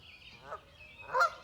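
Upset parent geese near a shore, two close, loud honks about half a second apart, the second one harsher and stronger.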